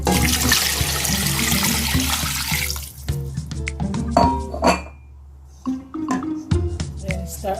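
Boiled pork water rushes loudly out of a cooking pot into a sink, followed by metal clinks and knocks of the pot and lid as the pouring ends, with brief running water.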